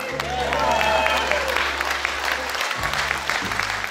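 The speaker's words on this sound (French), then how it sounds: "Eh bien, applaudis." An audience claps steadily through the whole stretch at a magic show, a dense wash of applause with a low hum underneath and a voice speaking over it.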